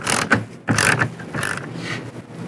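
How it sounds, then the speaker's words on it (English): A 10mm socket ratchet clicks in several short bursts close up while backing out a bolt on the side-view mirror of a 2008-2013 Nissan Rogue. "Take that bolt out. Use a 10mm socket."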